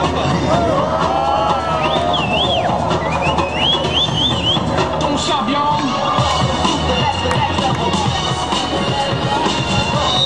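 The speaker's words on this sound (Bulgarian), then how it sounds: "Аплодисменти за момчетата" Crowd noise fills the scene at a boys' scooter demonstration, a steady wash of cheering, whoops and whistles that runs loud and continuous throughout, with babbling voices mixed in.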